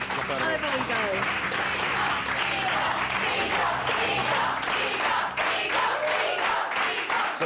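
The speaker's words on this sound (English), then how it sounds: "Got a cheer squad here" A studio audience applauds and cheers steadily and loudly throughout, a dense wash of clapping with crowd voices mixed in, at an Australian Big Brother nominations show.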